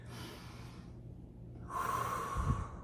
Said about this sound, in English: we're going to take in a big breath like this.